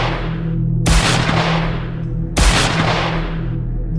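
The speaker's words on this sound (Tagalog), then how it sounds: "Sumunod ang sunod-sunod na putok mula sa homemade na shotgun ni Raul." Two loud, sharp blasts from a homemade shotgun, roughly one and a half seconds apart, each followed by a booming echo that fades out.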